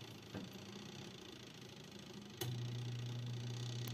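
A washing machine motor hums steadily without spinning the drum, a low mechanical drone with a couple of faint clicks, then the hum grows slightly louder and deeper partway through.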